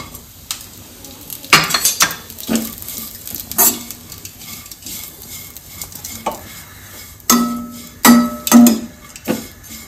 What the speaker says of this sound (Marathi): त्यासाठी मी तूप घालत आहे 1 चम्मच आणि खोबरं भाजून घेणार आहे